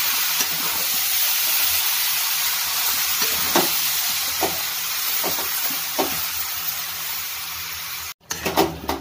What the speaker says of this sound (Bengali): আমি ভালো করে এটা কষিয়ে নিয়েছি